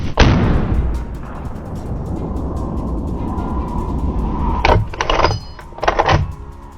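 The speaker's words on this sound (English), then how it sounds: "I raised the rifle, aimed, and fired. A sharp shot." A hunting rifle fires at a wild boar, one sharp loud crack at the start with a long rumbling decay, followed by a few scattered bangs and thumps.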